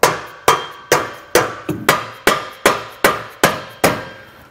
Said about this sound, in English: we're just going to come over to the other side and tap it back on.